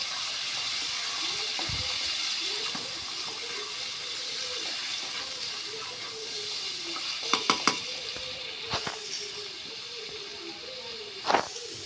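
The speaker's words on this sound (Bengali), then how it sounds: "এখন মিষ্টি কুমড়াটা ঢালে দিলাম।" Pumpkin goes into a hot pan and is stirred, making a steady sizzle with repeated scraping strokes and a few sharp metallic clinks of utensil on pan close by, with no talking.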